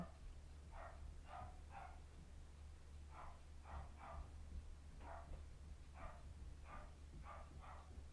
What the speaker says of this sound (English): and the dog barking